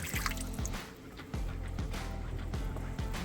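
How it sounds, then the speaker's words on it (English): A soup can of water poured into a pan of cream of mushroom soup with beefy onion mix, a steady close liquid splash and trickle running throughout with faint drips. "Gonna add a soup can of water."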